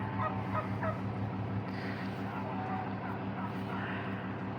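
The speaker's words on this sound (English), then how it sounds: "All the turkeys are coming." A flock of farm turkeys calls out at a distance in repeated honking bursts over a steady low background hum, fairly faint.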